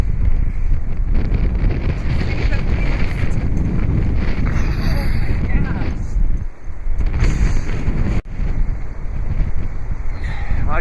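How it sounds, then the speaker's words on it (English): Strong wind buffets the microphone on a frozen Lake Erie shoreline, a loud continuous roar with gusty swells and brief drops, while a voice talks over it. "This wind is brutal."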